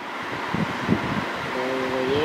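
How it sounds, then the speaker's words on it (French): A Fujitsu air conditioner blows air in swing mode, giving a steady broadband whoosh of airflow throughout, with a soft tonal hum rising near the end and faint low thumps earlier. "Donc là, il va y avoir un système de balayage qui va se produire dans la clim."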